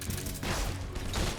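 Dense, loud gunshots fire in rapid succession in a video game and fill a short moment, heavy in low-end thump.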